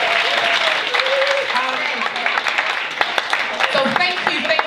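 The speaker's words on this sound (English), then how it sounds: "Can we give a round of applause, please?" Applause from a live show audience, a dense patter of clapping mixed with cheering voices and chatter, loud and close, with scattered sharper claps toward the end.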